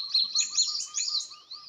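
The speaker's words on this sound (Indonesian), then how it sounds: "Nah itu burung di atas tuh Mas Bro." A cinereous tit calls repeatedly in quick chirping phrases, fairly close and clear, over a steady high-pitched whistling tone in the background, with no talking.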